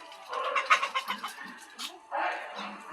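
Village chickens cluck busily while feeding, with ducks and pigeons nearby: a close cluster of soft, irregular clucks and short calls, followed by a brief pause and then another burst of clucking.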